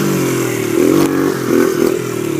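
A clutchless pit bike dirt bike engine revs nearby, holding a steady buzzing drone that swells and dips in two short throttle blips, loud and alone without voices.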